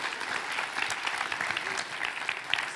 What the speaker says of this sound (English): Give Brendan a big round of applause.